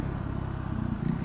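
A KTM Duke 390 motorcycle idles close by with a stock exhaust and no added silencer, giving a low, steady, throbbing engine note with a slight rise at the end. The sound is brief.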